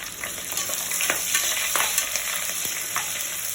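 Slit green chillies and two dry red chillies sizzle and crackle in hot oil during tempering, with a steady bright fizz, sharp pops and occasional stirring clicks close by.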